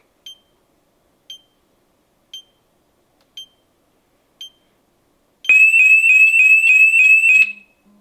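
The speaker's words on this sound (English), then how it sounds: "quite a piercing noise there" Five short, evenly spaced beeps sound, then a piercing electronic alarm wails loudly in rapid warbling pulses for about two seconds before cutting off.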